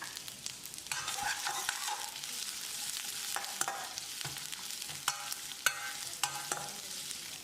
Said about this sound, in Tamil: ஒரு பெரிய வெங்காயம் நீல வாக்கில் நறுக்கினது, ஒரு 10-20 செகண்ட் இதை வதக்கிடலாம்